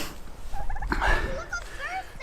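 Farm turkeys gobbling close by, several quick warbling bursts overlapping one another against a low rumble of background noise.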